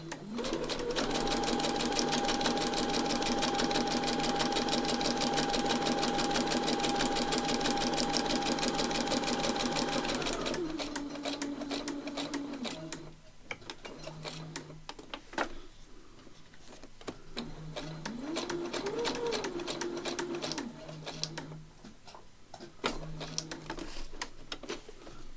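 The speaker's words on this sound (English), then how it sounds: "I absolutely love this little Brother sewing machine" A small Brother sewing machine stitches in a steady, fast mechanical whir that runs continuously, then breaks into short starts and stops with brief pauses between bursts.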